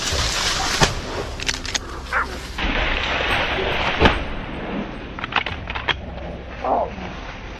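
Hunting dogs barking during a wild hog hunt, loud sharp barks and yips close by in irregular bursts, interspersed with short whimpers over a rustling outdoor background.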